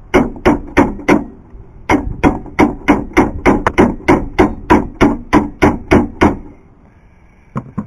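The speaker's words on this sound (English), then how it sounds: "Take a hammer." A hammer strikes repeatedly while a lawn mower is being fixed and its blade tightened, about fifteen sharp, loud metallic blows in a steady rhythm, close up, then they stop.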